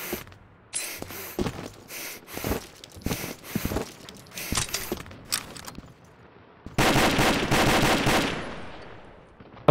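Video game gunfire in a round of play: bursts of automatic fire, repeated short volleys over the first seven seconds, then a sustained loud stretch of shooting that tails off, with no talking.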